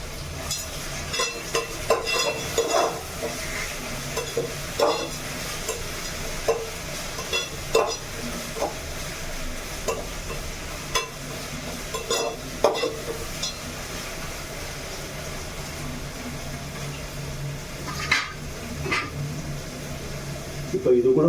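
Masala and tomato with salt cooking in oil for a beef curry: a steady low sizzle, broken by repeated scraping and clinking stirring strokes against the pan.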